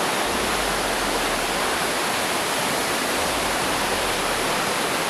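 Dense, steady roar of a mountain river flowing, loud and close, a constant wash of water noise with no pauses.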